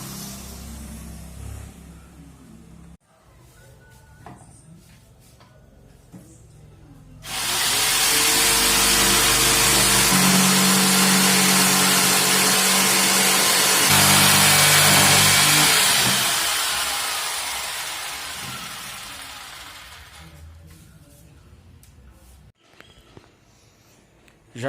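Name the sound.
power saw cutting wardrobe panel wood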